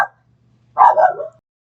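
One short, close dog bark comes sharply after a brief sound at the start, then quiet.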